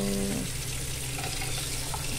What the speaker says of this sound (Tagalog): igasan natin siya ng malamig na tubig